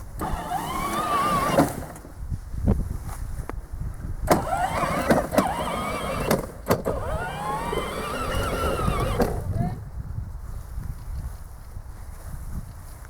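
A children's 12V battery-powered ride-on toy car drives under remote radio control, its small electric motor whining up and down in several bursts with wheels rumbling over the ground, close and fairly loud, with no talk.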